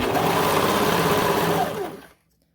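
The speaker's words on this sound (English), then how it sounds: "And then I just kind of started pulling it towards the back and serging off." A serger overlocks the leg seam of a sewn leotard, giving a loud, close, steady high-speed whir that winds down and stops near the end.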